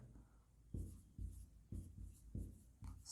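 Pen or chalk writing out an accounting entry for a share capital call, heard as several short scratchy strokes in a quick, uneven rhythm, close and fairly quiet, with no talk over them.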